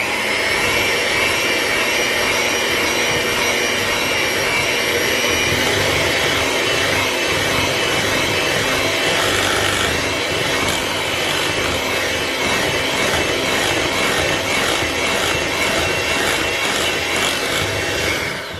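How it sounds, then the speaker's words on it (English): An electric mixer beats Oreo cheesecake batter with eggs in a bowl, a steady loud whirring drone that runs continuously for the whole stretch, with no talking. "now I'm just gonna mix everything"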